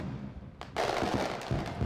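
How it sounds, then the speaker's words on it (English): Fireworks bursting in a visual novel video game, a sharp crackling burst that swells into a sustained fizzing rumble, moderately loud with no voices. "For a brief while, the two of us simply look up at the fireworks in the silence."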